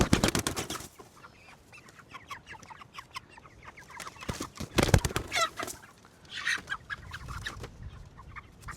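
Chickens, raised as meat birds now weighing around five pounds, cluck and call repeatedly at close range, with scattered flaps and rustling around the flock and no talk over them.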